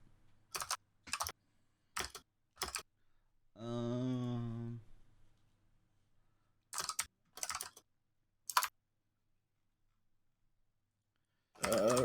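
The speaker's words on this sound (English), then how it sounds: "while I'm typing this" Typing on a computer keyboard comes in short separate clusters of sharp key clicks, close and fairly quiet, broken by long silences and one steady buzzing tone in the middle.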